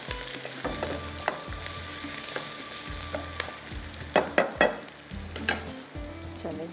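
Onions and masala-coated chicken frying in a pan make a continuous sizzle, with stirring scrapes and a few louder spatters toward the end, no talk.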